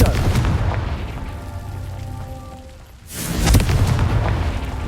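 Confringo spell blasts in the Hogwarts Legacy video game: a loud booming explosion around the three-second mark follows a sustained rumble, with crackling debris and a low roar trailing off afterward.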